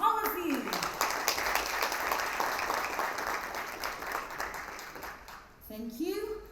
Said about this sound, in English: Can we have a big round of applause please, all of you?